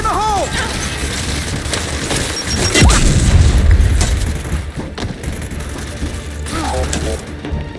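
Grenade explosion in the video game Gears of War 5, a deep booming blast that swells and rumbles for a couple of seconds amid mechanical clatter and scattered impacts, with voices speaking around it.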